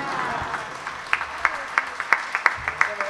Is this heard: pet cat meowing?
no